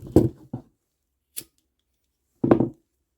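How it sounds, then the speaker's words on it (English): Scissors snip through beaded craft cord in two or three short, close cuts separated by pauses, with no talk. "Okay, we can cut this off."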